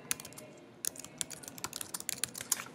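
Keys clatter on a computer keyboard while a short-answer question is typed into a Google Form, a quick uneven run of close, crisp clicks with brief pauses and no talking.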